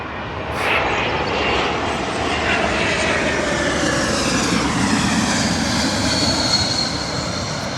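An Air France Airbus A220 airliner roars past at an airport, its engines giving a loud, continuous jet rumble and whine that stays strong throughout.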